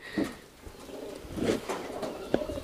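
Pigeons, including white-mixed birds, cooing in a loft: several soft, low, rounded coos at an irregular pace, fairly close but quiet.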